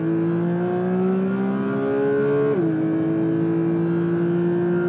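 Porsche 996 engine revving steadily and loudly up close, its harmonic tone climbing gradually before a sudden dip near the midpoint, then holding a slightly lower pitch; no talking.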